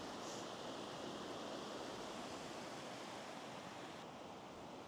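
A mountain stream in a high plateau village runs full after overflowing its banks, giving a steady, dense rush of water that fills the scene evenly and stays close and constant throughout, with no voices.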